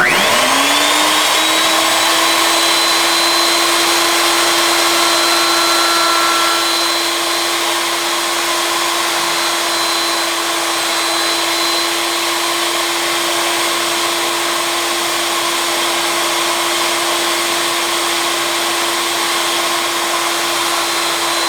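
A power tool spins up to a loud, steady high whine for a test cut in 3/4 inch scrap pine, holding a constant pitch close by throughout.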